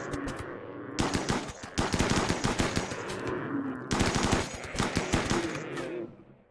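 Defenders in the colony-building game RimWorld fire on raiders from castle defences in rapid automatic bursts, two long volleys of gunfire separated by a short pause, loud and close.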